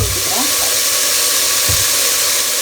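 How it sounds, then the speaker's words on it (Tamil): Loud, continuous sizzling hiss as water is poured into a hot pot of peas for pulao, with faint bubbling and a brief low knock partway through. "தண்ணி ஊற்றிக்கிறோம்."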